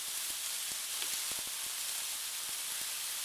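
Onions and garlic sizzling in a pan as they begin to caramelize, an even bright hiss with small pops and crackles scattered through it, close and steady.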